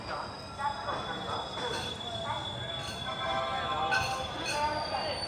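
The Kashi Vishwanath Express stands halted at Ghaziabad Junction, with a low rumbling hum, faint metallic squeals and clinks, and murmuring voices in the background.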